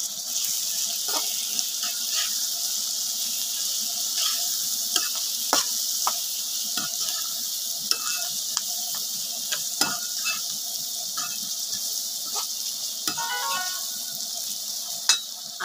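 Sliced onions with turmeric sizzle and fry in a pan, with a spoon scraping and stirring in scattered clicks and taps over a steady, close hiss.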